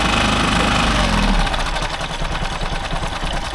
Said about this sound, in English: let that engine run itself out so we don't have any fuel in the carb